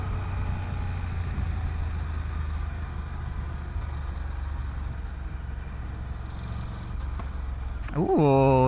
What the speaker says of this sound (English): did you guys hear that? A little exhaust pop.